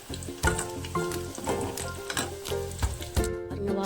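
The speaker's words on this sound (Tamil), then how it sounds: "அந்த எண்ணெய் இருக்கிற அளவு கொண்டு போட்டு வறுத்துக்கலாம்." Raw plantain slices fry in hot oil with a steady close sizzle and crackle, punctuated by sharper pops and occasional stirring clatter throughout, no voices.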